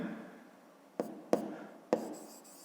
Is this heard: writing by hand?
yes